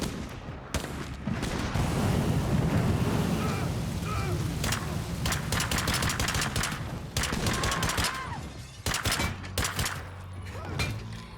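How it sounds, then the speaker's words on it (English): Gunfire in a video game battle: rapid bursts of automatic fire and heavy booms crackle almost continuously, loud and close, with dense overlapping shots throughout. "I think I'm being shot."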